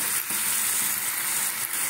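Spice mix sautéing in a pan for a potato curry, a steady close sizzle and frying crackle with faint stirring scrapes, no talk.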